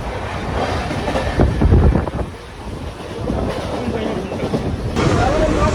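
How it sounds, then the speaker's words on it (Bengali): A Bardhaman-Howrah chord line super local train at high speed on the Indian railway gives a loud, continuous rumble and wheel roar, with heavy wind buffeting and surges near the middle and end. "ট্রেনের স্পিড দেখো আটানব্বই অলরেডি ছুঁয়ে ফেলেছে পাশ দিয়ে কিন্তু রাজধানী বেরোচ্ছে"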